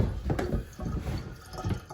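Water drains out of a boiler through a small hose, a close, soft trickling and gurgling flow with little splashes, fairly quiet and steady.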